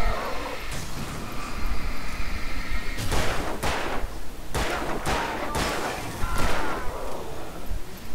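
Gunshots fired at enemies in the video game Alan Wake: a string of loud, sharp blasts spaced a second or so apart, ringing over a rumbling, tense game backdrop.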